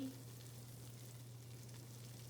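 Moong dal kachori filling of besan, ginger and spices fries in a pan with a soft, steady sizzle, quiet and continuous under a low background hum.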